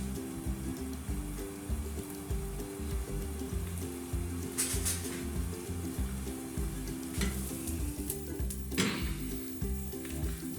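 Pepper potato masala sizzling in a covered pan over raised heat: a continuous even crackle with a low steady hum beneath and a few brief brighter hisses, no voices.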